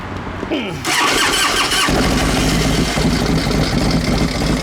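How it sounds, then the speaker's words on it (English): A Harley motorcycle with a carburetor cranks over on its starter button, catches after about a second, and settles into a loud, close, rumbling idle. "Over here, we got a little starter button."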